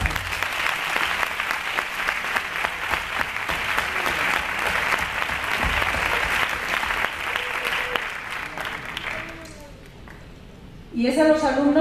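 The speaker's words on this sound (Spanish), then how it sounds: "Creo que se merecen un aplauso." Audience applause for the organizers of a school graduation ceremony, sustained clapping that gradually thins and dies down before a voice resumes speaking near the end.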